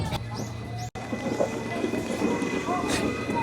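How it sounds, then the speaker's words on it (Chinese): A JR San'in Line train pulls away from Hiyoshi station, its wheels clattering and rumbling steadily amid platform ambience with a faint hum, heard close-by for a few seconds. "看着列车离开，我们刚搭乘了山阴线来到日吉站。"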